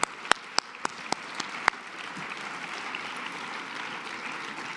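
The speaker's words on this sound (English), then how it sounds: "please stand so we can applaud you" Applause from a leadership awards lunch audience, starting with a few sharp distinct claps that blend into a steady, fairly distant wash of clapping.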